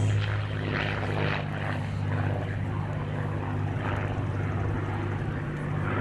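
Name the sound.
Spitfire aircraft flying a display pass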